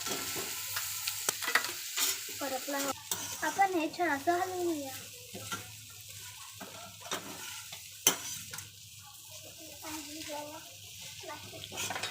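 A spoonful of mustard seeds and turmeric sizzle in hot oil in a home kitchen, a soft crackling fry with stirring scrapes beneath someone talking, fairly quiet throughout.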